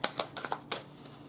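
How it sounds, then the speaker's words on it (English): Visionary I-Ching cards being shuffled and pulled, a quick run of five or six light papery flicks and snaps close by, no talking. "Let me pull some I-Ching cards first for G-Dragon"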